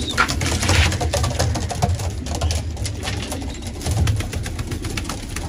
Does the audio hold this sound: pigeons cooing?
yes